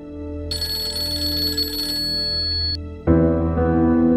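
A mobile phone left behind rings with a repeating electronic ringtone, loud and close, the tone cutting off partway through before a different, lower sound takes over near the end.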